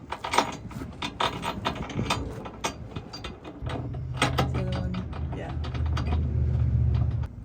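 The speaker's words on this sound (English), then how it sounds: "we got our ratcheting strap put in" A ratcheting strap being cranked tight on a project boat, a series of sharp mechanical clicks and creaks in uneven bursts, close by, with a low hum building underneath in the second half.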